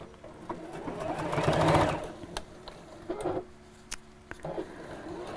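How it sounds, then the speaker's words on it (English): A sewing machine runs a seam across the top of a fabric gift bag, a close mechanical whir that swells for a couple of seconds, then comes in shorter bursts with light handling noises between. "I'm going to sew within the seam allowance just across the top"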